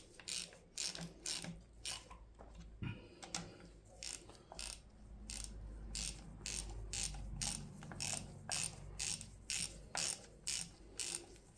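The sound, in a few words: ratchet nipping up timing chain bolts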